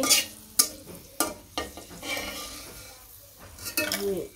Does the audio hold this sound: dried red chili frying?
yes